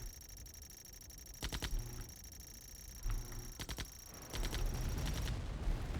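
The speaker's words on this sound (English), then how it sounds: "Hearing gunfire." Bursts of gunfire from the Command & Conquer Remastered real-time strategy game, with short volleys of shots near 1.5 and 3–3.8 seconds over a steady background game hum, then a louder, denser rumble toward the end.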